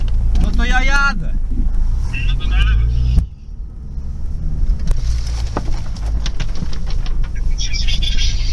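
Jeep Cherokee KJ with the 2.8 diesel engine pulls away on light off-road terrain, its engine rumble steady and close throughout, with people talking over it at the start.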